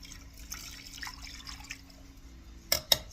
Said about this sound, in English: Too cold not to have your faucets dripping, y'all.